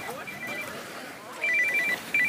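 A mobile phone rings in short repeated electronic bursts, fairly faint, beneath outdoor background noise and nearby talk.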